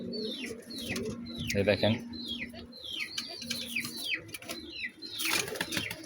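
Pakistani Lal Dom pigeons coo in soft repeated bursts close by, mixed with chirping birds, while someone talks over them.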